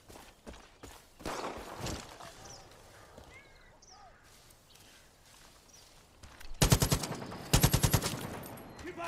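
Sniper gunfire in the video game Far Cry 5 rings out as two loud, rapid bursts of rifle shots near the end, following quieter footsteps and faint ambient game noise.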